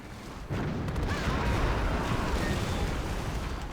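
Bombing run explosions from the 2004 strategy video game Axis & Allies come as a sudden loud rumbling roar that starts abruptly and holds as a dense, continuous wash of blasts.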